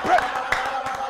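Church congregation clapping hands during prayer, a rhythmic series of sharp claps under an ongoing voice of someone speaking, fairly loud and close.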